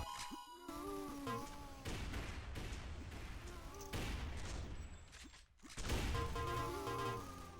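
Machine gun fire during a competitive video game match, dense crackling bursts layered with clanks and impacts under game music, fairly faint and continuous with a brief lull before resuming.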